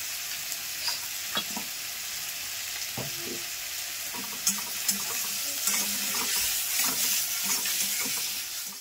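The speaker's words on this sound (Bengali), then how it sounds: "এই দেখুন আমি চিংড়ি মাছটা ভেজে নিচ্ছি" Prawns sizzle in hot oil in a pan with a steady crackling hiss, broken by occasional clinks and scrapes of stirring, close and continuous.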